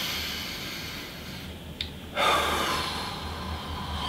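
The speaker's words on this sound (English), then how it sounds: "so let's start breathing again" A person meditating takes deep breaths, with a sharp inhale, a short pause, then a long, strong exhale that trails off, heard close up and alone.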